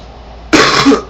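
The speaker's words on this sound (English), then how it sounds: "That was a horrible cough." One harsh, close cough bursts out suddenly after a quiet moment, rough and throaty, ending with a short throat-clearing rasp.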